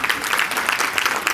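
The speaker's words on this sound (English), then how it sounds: "the rest of you should clap as well" An audience at an annual public meeting claps in a brief, lively burst of many hands, close and fairly loud throughout.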